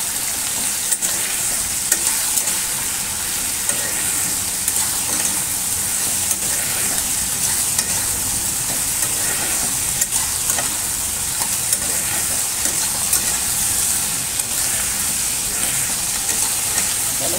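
Bitter gourd chorchori fries in a pan with a continuous, loud sizzle and hiss, broken by the scrape of stirring, steady throughout with no voices.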